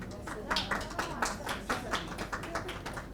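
Audience applause at a workshop certificate ceremony in Dubai, with a steady crowd of claps running through the whole stretch and a few louder sharp claps standing out near the front, with no talking.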